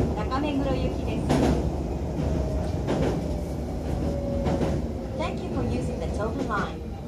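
A Tobu 70000 series train runs on a Hibiya Line through service, heard from the front of the car. A continuous rumble and clatter of wheels on rail fills the clip, with an onboard announcement voice over it.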